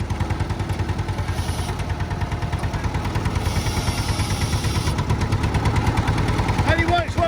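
An old JCB digger engine chugs at idle with a rapid, loud mechanical knocking rhythm as its hydraulics are tried in a workshop yard, a voice speaking briefly over it.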